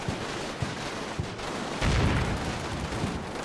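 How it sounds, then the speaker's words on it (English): Sustained gunfire in a World War II style strategy game with German forces, a dense barrage of shots and rumbling explosions with a louder burst midway, continuous and moderately distant. "There's a machine gun team in there."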